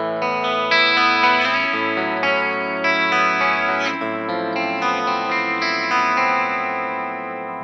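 Bright electric guitar strummed and picked on a Legator N8FP with Fishman Fluence Tosin Abasi pickups, bridge pickup voice 1, ringing chords with a touch of chorus and echo, played alone for several seconds.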